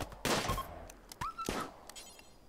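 Gunfire in the video game Rimworld during a colony skirmish: a few quick, faint shots and impacts within a couple of seconds, soft and distant-sounding, with a brief tonal game cue between them.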